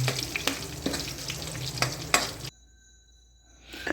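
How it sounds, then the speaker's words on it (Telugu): Spices tempering in hot GRB ghee for a pan of dal, a soft crackling sizzle with stirring clicks for a couple of seconds, then near silence before sizzling creeps back. "జిఆర్బి నెయ్యితో తాలింపు పెడుతున్నాను అనమాట."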